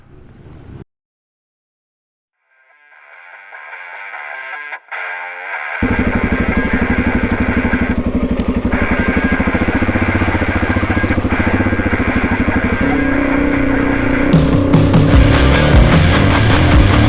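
A Suzuki DRZ400E dirt bike, with freshly tuned suspension, new springs and a revalve, starts up and then runs steadily and loudly at close range out on dirt tracks, its engine note shifting near the end.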